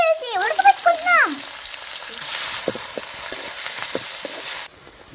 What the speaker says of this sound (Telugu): ఇప్పుడు పొయ్యి మీద నువ్వులు కాస్త లైట్ గా వేయించుకుంటున్నాము. ఆ తర్వాత ఎండు మిరపకాయలు వేయించుకుంటున్నాం అన్నమాట.